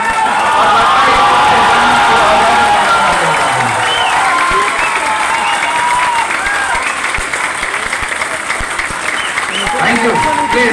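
Audience applauding at an indoor speech event in Sasaram, dense sustained clapping from a large crowd with some cheering, steady and loud throughout, no talk over it.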